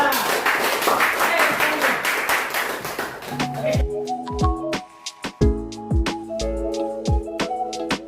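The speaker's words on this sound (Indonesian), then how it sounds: "tepuk tangan untuk kelompok 3" Students in a classroom clap for a group about to present during a teacher-training lesson: loud, dense applause for almost four seconds, then it breaks off into scattered sharp taps and knocks with ringing, tonal sounds.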